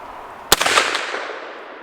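A single sharp shot from a Henry Big Boy Brass rifle in .357 Magnum at an outdoor range, a loud close crack followed by a rolling echo that fades over about a second.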